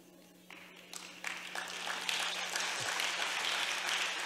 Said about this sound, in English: Are you clapping for somebody that needs to be nice?